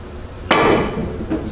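In a three-cushion billiards game, a cue strikes a ball once with a sharp, close click. A fainter knock follows about a second later. No one talks.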